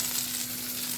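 Chicken balls frying in a pan, a steady, dense sizzle of hot oil, close and continuous without a break.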